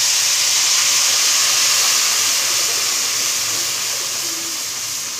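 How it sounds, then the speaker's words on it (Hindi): Milk is poured slowly into roasting semolina for suji halwa, sending up a loud, steady, close sizzling hiss that continues without a break and eases off slightly toward the end. "बिल्कुल आहिस्ता आहिस्ता करके हम दूध डालेंगे इसमें और चमचा चलाते हैं"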